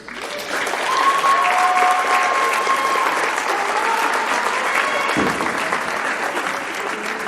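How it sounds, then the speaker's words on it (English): Crowd applause fills a high school gym after senior night speeches before a volleyball match, a steady dense wash of clapping from many hands that holds loud and even throughout, with a brief low thump partway through. "one more round of applause for our seniors."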